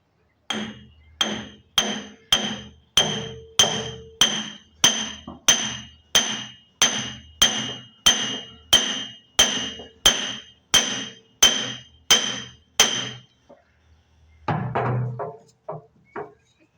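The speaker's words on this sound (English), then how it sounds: "so now it's hammer time" Steady, evenly spaced hammer blows drive a piston into a backhoe hydraulic cylinder, about twenty metallic strikes, followed by a short pause and some clattering handling noise.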